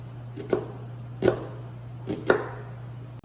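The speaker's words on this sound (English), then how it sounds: "So we're gonna start chopping" A knife chopping a small to medium yellow onion, three faint, evenly spaced chops over a steady low hum.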